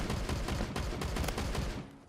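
Rapid full-auto bursts from an AA-12 shotgun in the Phantom Forces shooter game, loud repeated booming shots in quick succession that fade out at the end.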